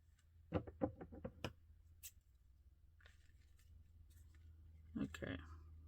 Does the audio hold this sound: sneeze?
no